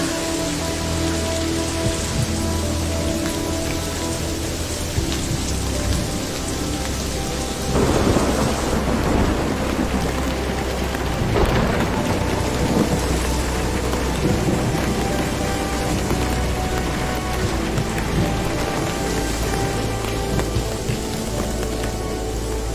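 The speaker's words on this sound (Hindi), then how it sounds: "बिजली कड़क रही है और मुझे जल्दी से जल्दी घर पहुंचना है। तेज बारिश हो रही है।" Heavy rain pours steadily while thunder rumbles and cracks through the downpour, loud and close.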